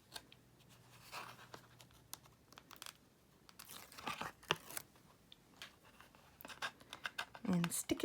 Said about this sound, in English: I'm just going to take the backing off my tearing tape